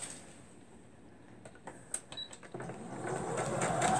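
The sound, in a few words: sewing machine sewing down a shirt dress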